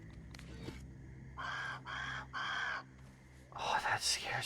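Bird calls from the survival video game Grounded: several strong, harmonic calls in a row, then a louder, busier cluster at the end, over a low game background hum.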